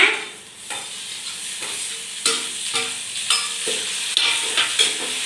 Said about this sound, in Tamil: தக்காளி போட்டுக்கலாங்க.